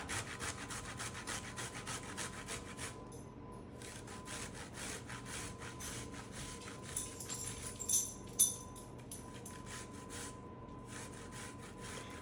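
Garlic clove grated by hand on a kitchen grater while making homemade shrimp rolls, a steady rhythmic rasping scrape with repeated back-and-forth strokes, close and fairly quiet throughout.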